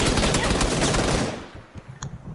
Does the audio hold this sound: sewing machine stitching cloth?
no